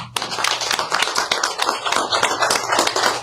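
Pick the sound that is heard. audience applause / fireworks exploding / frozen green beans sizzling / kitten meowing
audience applause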